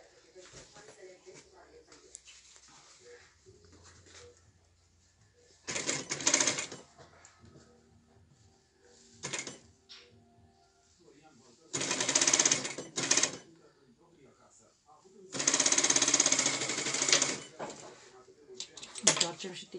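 Short bursts of a sewing machine topstitching a garment lining at a neckline, several quick runs of needle chatter separated by pauses while someone talks in between.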